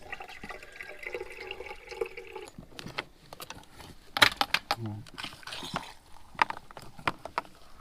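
Water runs from the outside kitchen sink faucet and outdoor shower of a travel trailer being winterized. It begins as a steady hiss, then breaks into splashes and drips, with a person speaking over part of it.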